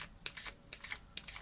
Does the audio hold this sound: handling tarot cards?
yes